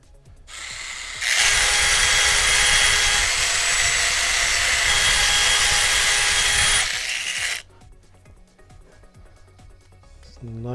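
A power drill spins a jetpack prototype part held against sandpaper, a loud, steady whirring grind lasting several seconds, then cutting off to quiet handling noises.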